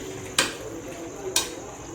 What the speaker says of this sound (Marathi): याला छान असं मिक्स करून घ्यायचं आहे